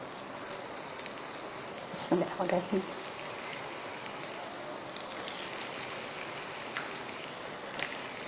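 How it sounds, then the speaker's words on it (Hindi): Vermicelli-coated jaal kebabs fry in hot oil, giving a steady soft crackle and hiss throughout, with a brief louder burst of bubbling partway through; close and fairly quiet, with no talking. "अब हम बाकी के कबाब जो हैं वो फ्राई करते हैं"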